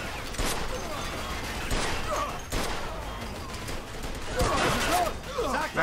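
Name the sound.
gunfire in a video game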